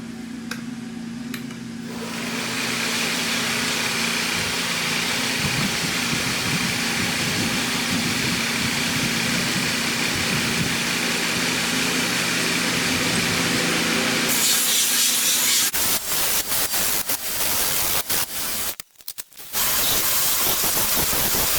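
Coarse 36-grit abrasive grinds steadily against a decorative sword for about twelve seconds, a loud, continuous rasping roar, followed by a few shorter stop-start passes near the end.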